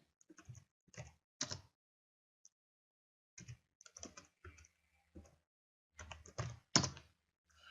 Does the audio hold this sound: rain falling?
no